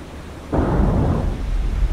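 Torpedo strike on a warship in War on the Sea, a sudden heavy explosion that booms in and rumbles on for over a second before slowly thinning out, with no voices.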